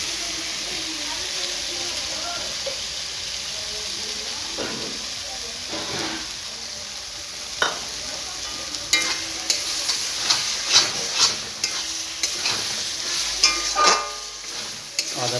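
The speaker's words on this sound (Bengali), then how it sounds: "আদা বাটাটা দিয়ে দেবেন।" Ginger paste and fried garlic stirred together in a hot pan while cooking chicken, giving a steady sizzle with scraping stir strokes that grow busier and louder toward the end.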